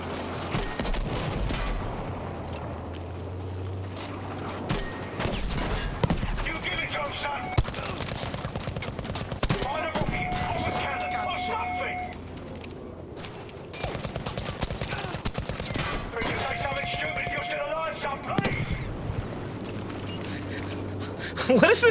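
Rifle grenades and gunfire in the Battlefield V single-player campaign, a dense run of sharp blasts and rapid shots with recurring mechanical tones, loud and continuous, under a player talking.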